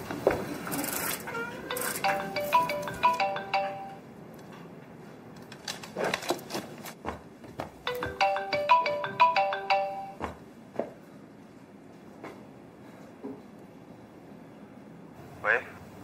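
A telephone ringtone plays in a melodic electronic pattern, two clear bursts of repeated ringing separated by a pause, with brief voice sounds and clatter around it indoors.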